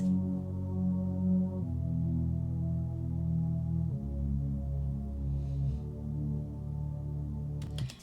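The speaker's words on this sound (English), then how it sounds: "The bass line is a thick bass line because it's filling out the intro" Thick synth bass line filling out the intro of a lullaby-style track, playing sustained low notes that change pitch every couple of seconds, loud and steady with no voice over it.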